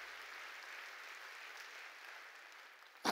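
Congregation clapping during a church service, a sustained, even wash of many hands applauding together at moderate distance, cut off at the end by a brief voice.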